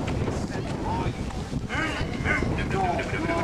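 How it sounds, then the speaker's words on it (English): Wind gusts buffet the microphone in a steady rushing roar outdoors at an anime convention, with indistinct voices and crowd noise mixed in underneath. "It's too windy."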